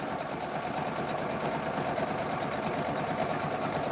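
A sewing machine runs steadily for several seconds, stitching through a pumpkin-themed quilt in progress, with a fast, even mechanical whir and rapid needle chatter at a constant close-up level.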